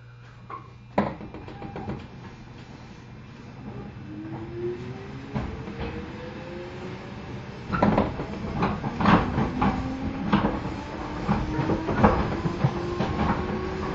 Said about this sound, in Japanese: 浜川崎行き、まもなく発車いたします。